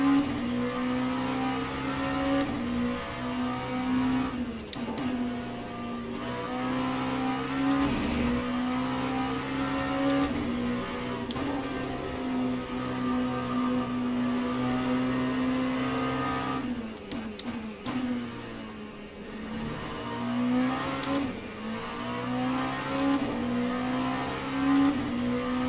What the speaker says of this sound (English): Leading hypercar behind us now.